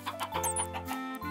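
Chickens in the video game Minecraft clucking in quick, soft bursts, several short calls overlapping at low volume over a faint steady background.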